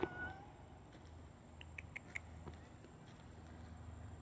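A cat meows a few times, soft and somewhat distant, over a quiet room background.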